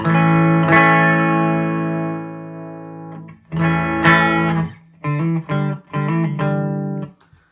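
An electric guitar played clean through a Joyo Zombie 2 amp: a long ringing chord fades, then several short, crisp strummed chords follow in quick succession before stopping.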